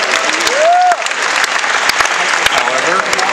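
Audience applause at a live Q&A session with Kevin Smith, a steady wash of clapping throughout with a brief whistle-like tone early on and scattered louder claps.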